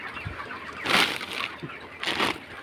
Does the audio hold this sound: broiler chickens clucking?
yes